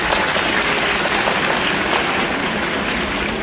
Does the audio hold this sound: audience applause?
yes